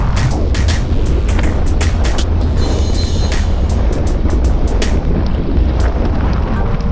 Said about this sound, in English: This is a climb and it's windy.